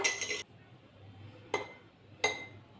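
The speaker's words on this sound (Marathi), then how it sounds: "एका बरणीमध्ये आपण भरून ठेवूयात।" Three sharp clinks of glass or metal sound while onion-coconut masala goes into a jar. There is one cluster at the start and two single knocks later, close by, with quiet in between.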